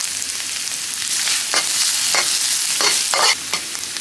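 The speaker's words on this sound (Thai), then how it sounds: "น้ำมันเริ่มร้อนแล้วเราก็ใส่กระเทียมสับของเราลงไปนะคะ" Chopped garlic sizzles in hot oil while being stirred for a Thai basil stir-fry with fried mackerel, a loud, steady crackling hiss broken by spatula scrapes close to the pan.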